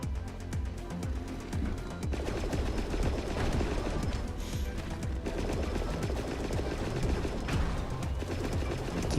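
Continuous gunfire in the flying-tank PC game meowmurai's Flying Tank, aimed at ejecting pilots, a dense steady stream of rapid shots and small impacts layered over a busy rumbling battle background, with no speech.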